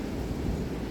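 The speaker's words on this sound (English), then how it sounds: "Oh, here comes a wind gust." A gust of strong wind during a heavy thunderstorm in southeastern Pennsylvania, with trees blowing, makes a loud, steady roar that buffets the microphone for its whole brief span.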